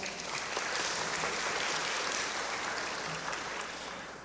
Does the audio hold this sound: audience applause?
yes